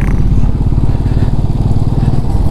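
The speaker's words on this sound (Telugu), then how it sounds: "జాన్ డీర్ ట్రాక్టర్ కనబడ్డది ఈడ." A John Deere tractor engine drives past on a village road amid trees, a loud, steady low diesel chug with rapid rhythmic pulsing throughout, close and continuous.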